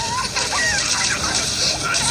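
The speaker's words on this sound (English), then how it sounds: "Peppa likes splashing. George likes splashing." Cartoon children splashing bathwater in a tub at bedtime, a steady wet sloshing and splattering heard alongside light voices and music throughout.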